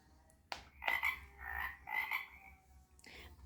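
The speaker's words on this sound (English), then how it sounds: "Touch the tree frog's back to hear her." Tree frog croaking from an animal sound book: a few short, raspy croaks in quick bursts, close and clear against quiet.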